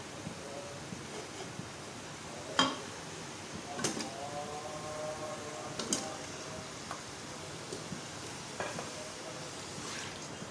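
Mutton pieces dropped into a pot of frying garlic and ginger, giving a faint, steady sizzle with a few sharp clatters and stirring knocks, fairly quiet and without talk.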